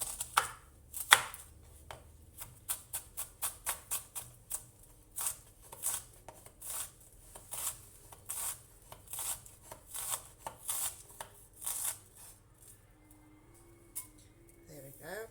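An onion being chopped finely with a somewhat dull kitchen knife on a board, a long run of close, crisp knife strikes in a steady, fairly quick rhythm with brief pauses, no talking.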